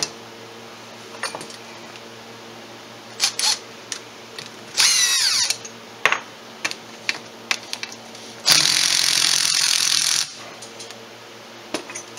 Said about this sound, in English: I love this electric impact for getting these stubborn bolts out